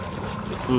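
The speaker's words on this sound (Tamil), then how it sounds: "நல்ல ப்ரெஷராகவே தண்ணி வந்துக்கிட்டு" Water gushes steadily under good pressure from a pump driven by a BLDC motor installed in 2021, a constant rushing flow with no pauses and no voices.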